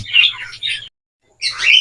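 Bursts of bright chirping from breeding lovebirds or parakeets, close and lively, break off into a short silence before resuming.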